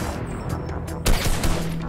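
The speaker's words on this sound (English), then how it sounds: "I hear your shotguns going off," Shotguns in the video game Fortnite go off amid dense gameplay noise, with one sharper, louder blast standing out among busy background clatter and a few smaller pops.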